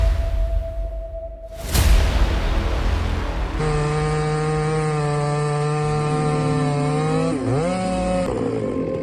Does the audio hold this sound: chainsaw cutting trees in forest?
yes